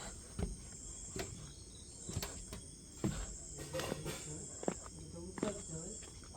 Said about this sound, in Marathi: तुम्ही फक्त बॅकग्राऊंडला रातकिड्यांचा आवाज ऐका.